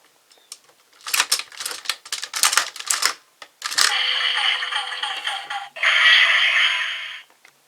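Turning the back knob on a DX GaoLion transforming toy gives rapid plastic clicking and ratcheting, first in short bursts, then in two sustained whirring rattles, close and fairly loud with no talk.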